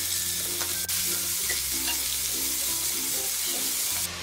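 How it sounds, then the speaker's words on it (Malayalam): Sliced onions sauté in hot oil with whole spices for a chickpea curry, giving a constant close sizzle with faint stirring scrapes and a sharp tick partway through. "അത് ഇതിലേക്കിട്ട് വഴറ്റി കൊടുക്കാം."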